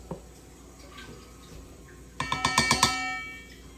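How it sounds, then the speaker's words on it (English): Mixing bowls ringing like a small church bell while flour is added for an apple cobbler crumble topping: a quick run of six bright, close, resonant clinks with ringing overtones, then a fading tail. "I need bowls that do not make this little church bell sound"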